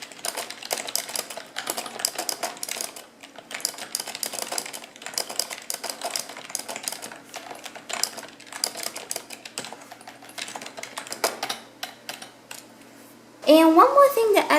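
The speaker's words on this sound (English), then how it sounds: "next thing I'll be doing is test the typing sound" Steady clicking of keys typed on a Logitech Wireless Wave MK550 keyboard, quick irregular taps close by, ending with a brief louder clatter.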